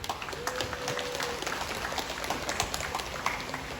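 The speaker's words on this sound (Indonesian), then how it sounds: "Aplaus untuk Bapak Ibu dulu." A crowd at an outdoor election rally in Rimbo Bujang applauds, steady dense clapping from many hands at moderate distance, continuous throughout with a faint murmur beneath.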